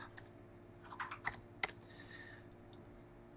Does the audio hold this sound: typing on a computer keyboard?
yes